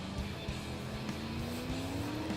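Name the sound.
offroad utility car braking into a hairpin, from a video game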